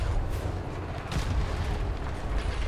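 NPC cannons firing in the naval game ATLAS during a schooner versus brigantine battle, heard as continuous low rumbling booms and blasts layered over one another at a steady, fairly loud level.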